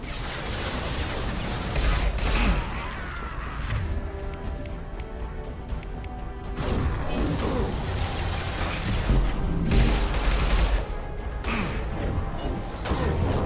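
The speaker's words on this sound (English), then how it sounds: "Get ready for close combat! Heavy fire." Heavy gunfire from a close-combat firefight in the video game Mass Effect, a dense continuous roar of shots and bursts with loud surges and impacts throughout, close and sustained.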